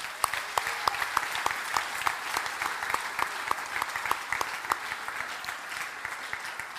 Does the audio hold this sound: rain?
no